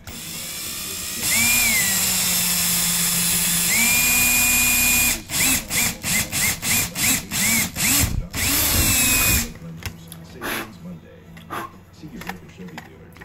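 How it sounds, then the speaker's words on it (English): A regular corded power drill bores a hole for a new Z-Wave antenna. It whines loud and close with a steady run, then pulses in a rapid series of short bursts before stopping, with quieter handling noise afterward. "I'm going to drill a hole through here just with a regular drill"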